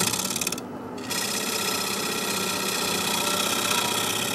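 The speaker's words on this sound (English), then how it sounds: "This is a little lathe and it doesn't have a lot of power" A small, low-powered wood lathe turning a wooden top, giving a steady, close, rasping hum with the motor's whine underneath and a brief dip near the start.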